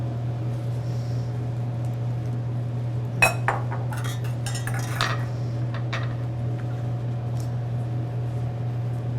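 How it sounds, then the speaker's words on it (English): A knife chopping cilantro on a cutting board in a brief cluster of quick taps and clinks midway, otherwise a steady electrical hum filling the quiet kitchen. "So now we can chop the cilantro."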